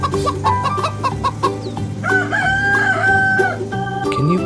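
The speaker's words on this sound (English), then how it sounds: "Chicken says, cluck," A rooster crows loudly and close, a long drawn-out call over a backdrop of clucking chickens and farmyard fowl, with no talking.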